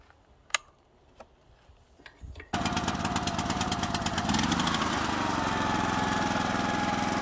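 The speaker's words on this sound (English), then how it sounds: "we're going to power up this nice little Honda generator." A small Honda portable generator starts up abruptly after some faint clicks and knocks, then runs at a steady, fairly loud engine drone that settles into an even, constant hum with no talking.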